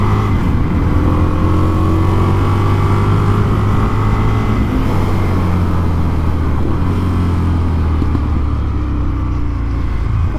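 An Indian FTR 1200 S motorcycle runs on a race track, its engine droning loudly and continuously with steady harmonic tones and heavy wind rush throughout.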